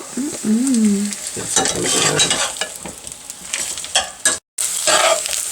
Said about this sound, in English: Today we're having the pan-fried mandu, and it is cooking right now with a bit of oil.